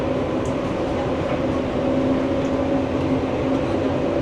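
Steady hum and rumble from inside a moving metro train in Kuala Lumpur, an even drone with a faint whine, no talking, constant and moderately quiet.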